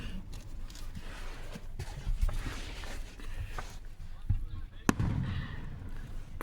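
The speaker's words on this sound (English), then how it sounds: "I love the fireworks." Fireworks go off outdoors with muffled thumps and crackles and one sharp bang near the end, while voices talk nearby.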